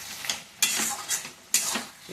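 Local goat meat being stir-fried in a pan, with two bursts of scraping and sizzling as it is turned, close and moderately loud, with no voices.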